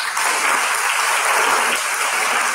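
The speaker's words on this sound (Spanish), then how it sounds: "Aplausos." Steady, full applause from an audience at the opening of an international seminar fills the room continuously without pause.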